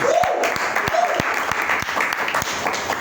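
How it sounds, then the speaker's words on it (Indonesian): A church congregation claps in a steady, even rhythm during a Sunday service at CMC Ekklesia Bandung, sharp hand strikes filling the room while a voice speaks briefly over the beat. "Tepuk tangan buat Tuhan Yesus."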